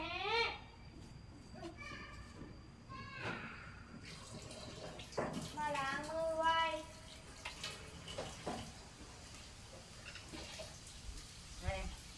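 Water runs from a tap while hands are washed, a soft hissing stream with splashes, under intermittent voices and short bursts of other sounds, all fairly faint.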